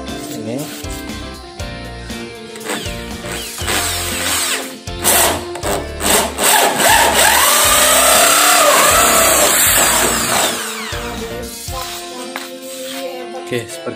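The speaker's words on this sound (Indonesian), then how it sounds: "Kita bor." A power drill revs and grinds steadily through plastic of a 20-liter jerry can, rising to a sustained loud whine in the middle before easing off, with short bursts around it.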